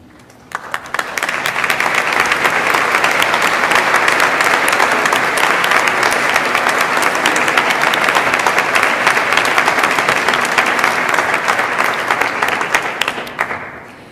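An audience at a 2015 technical and vocational school graduation ceremony applauds the teaching staff, a loud, dense wall of clapping that builds quickly, holds steady for about thirteen seconds and then tapers off, with no voices over it.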